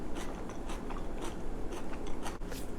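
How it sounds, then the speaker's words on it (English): Chewing on a mouthful of Sichuan-style stir-fried lotus root with pork gives a close, quiet run of repeated crunches and crisp crackles, each bite snapping in a loose rhythm with no speech. "You hear the crunch?"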